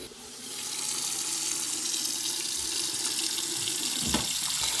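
Hot water runs steadily from a bathroom sink faucet, a continuous close splashing stream that starts almost at once and holds at an even level, with a brief clunk near the end and no talking.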